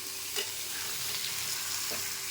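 Sweet-sour-spicy mango pickle is stirred in jaggery syrup in a pan, a dense, steady bubbling sizzle with a couple of faint scraping stir strokes, close and continuous, no talking.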